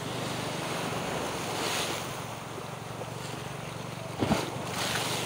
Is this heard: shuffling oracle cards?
no